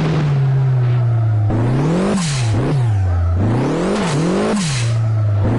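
A car engine in the racing game Assetto Corsa, a Flintstones-style car, revs up and down repeatedly, its loud whining tone rising and falling in quick sweeps over several seconds with no voices.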